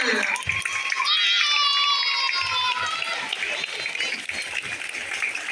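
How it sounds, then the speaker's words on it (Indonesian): Children clap together in a lively burst at a school flag ceremony, with excited shouting and chatter mixed in. The noise stays steady throughout. "Beri tepuk tangan untuk kelas 5A"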